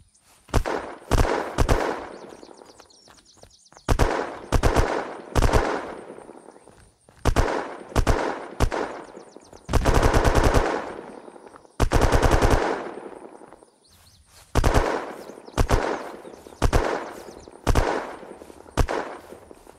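AK rifle fire in the survival game Unturned comes in loud, rapid automatic bursts, several strings of shots separated by brief pauses, with no voices.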